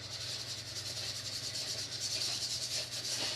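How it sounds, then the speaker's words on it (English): A brush scrubs paint onto a board in a live sky painting, giving a steady, close, rhythmic rasping hiss that runs without pause and with no talking. "This scrubbing of the paint is a technique that was well used by Turner."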